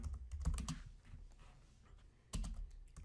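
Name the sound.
typing on a computer keyboard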